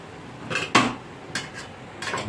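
A metal momo steamer pot of chicken dumplings is lifted off a home stove, giving a few light clanks and clatters of metal lids and rims, close and fairly soft, with brief pauses between knocks.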